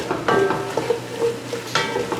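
Chili verde ingredients are stirred in a pot, giving close, loud scraping and shuffling strokes over a soft sizzle, with a few brief clinks of a utensil against the pot and no voices.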